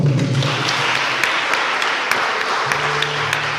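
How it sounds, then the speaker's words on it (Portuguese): A church congregation at a worship service applauds, a dense, steady wash of clapping that fills the room throughout, with a faint low hum and a brief voice underneath. "Aplauda o Senhor"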